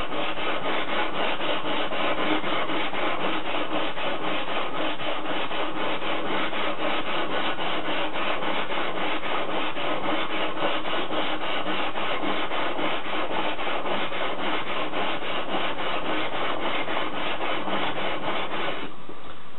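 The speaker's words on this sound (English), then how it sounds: "I've got my flattening stone with all these ribs in it. Make sure the stone's nice and flat." A ribbed flattening stone is rubbed back and forth over a water stone used for sharpening a knife or machete, a steady, dense gritty scraping that holds for about twenty seconds, close and loud, with no voice.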